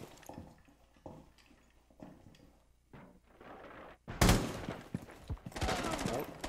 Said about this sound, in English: Chris, you should shoot the Mira from there